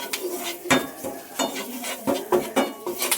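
A pan of spiced, salted fried quail eggs gets curry leaves, heard as a run of close metallic clinks and scrapes from a utensil against the pan over a light sizzle, with no speech.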